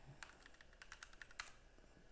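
Computer keyboard keys tapped in a quick, uneven burst of faint, close clicks, including the enter key, with no voices.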